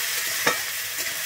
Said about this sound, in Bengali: আমি আলু বেগুনটা কিন্তু আবারও ভালোভাবে এখানে নেড়ে নিচ্ছি